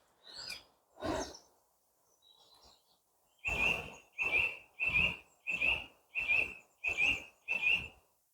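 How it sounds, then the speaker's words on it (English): Birds sing outdoors early in the morning: two isolated calls open, then a steady run of seven loud, evenly spaced calls, each a bright tonal note that sounds close by, with no talking. "It is really, really cool just listening to all the birds just singing first thing in the morning."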